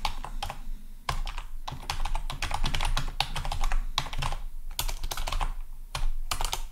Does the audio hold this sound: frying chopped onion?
no